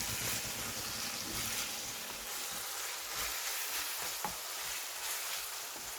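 Ground meat mixture sizzling and frying in a pan as it is stirred, a steady close hiss with occasional scrapes and small pops, without speech.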